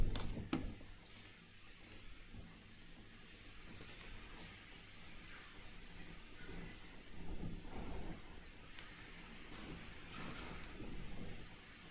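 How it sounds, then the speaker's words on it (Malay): Strong gusty wind blows before rain arrives, making a low, rumbling buffeting that rises and falls continuously. It stays faint throughout, with no voices. "Angin kuat nak hujan ni apa."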